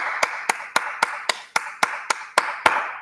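One person claps hands about ten times in a steady, even rhythm in place of applause at a school celebration assembly, each clap sharp and close.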